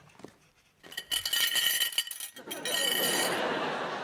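Crockery and glassware clatter as dishes are cleared, with a quiet start followed by a burst of close, bright clinks and rattles and then a denser, steady jumble of clattering to the end.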